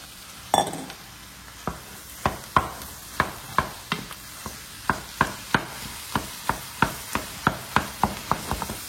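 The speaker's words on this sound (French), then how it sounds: "Je vais directement rajouter ma viande pour commencer à la faire cuire aussi petit à petit" Onions, garlic and meat cooking in a pan over high heat for a bolognese sauce, with a steady, regular run of sharp scraping stirs against a constant sizzle, close up, no talking.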